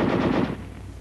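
A rapid burst of automatic gunfire rattles loudly, then breaks off into a fading echo.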